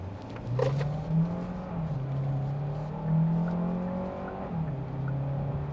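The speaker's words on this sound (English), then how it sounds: "I'm going to go ahead and let this truck go by so I can have a little bit of a clean acceleration run." A 2025 Hyundai Santa Fe Hybrid pulls away on an open road, its engine note climbing and dipping through gear changes in a steady, close hum with tire and road noise, no talking.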